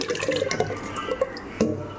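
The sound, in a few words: pouring ragi porridge into a bucket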